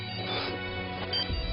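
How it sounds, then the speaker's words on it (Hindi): A telephone ringtone in a Pakistani TV drama scene: a steady, electronic ringing tone plays clearly and continuously for over a second, with a low thump near the end. "इफ़त, ये यकीनन मामा का फोन है।"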